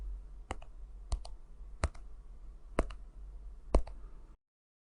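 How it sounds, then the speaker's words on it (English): Sharp clicks on a phone line during a call, five evenly spaced ticks roughly every second over a low steady hum, close and moderately loud with no voices. "If you hear clicking sounds"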